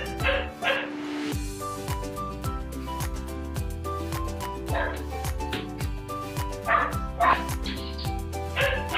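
Several of six dogs yip, whimper and bark excitedly at feeding time, their cries rising in short bursts over loud background music.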